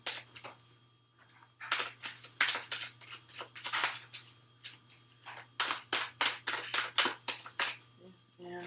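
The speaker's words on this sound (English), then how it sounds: "We're going to continue shuffling." Tarot cards are shuffled close by in quick, crisp bursts of riffling and snapping, broken by short pauses between rounds against a quiet background hum.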